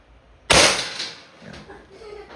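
An Umarex Glock 17 Gen 5 blowback airgun firing .177 lead pellets gives a single sharp, loud pop with the slide snapping back, followed by a short decaying rattle and faint handling noise.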